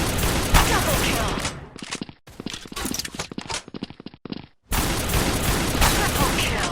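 Shotgun blasts and rapid gunfire from the video game Truy Kích in a zombie mode, dense and loud, with repeated sharp shots filling most of the clip and a brief quieter gap midway.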